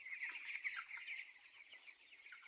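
Seventeen-day-old broiler chickens at a poultry farm at night, a flock cheeping and clucking softly in a steady, continuous chatter with no voices.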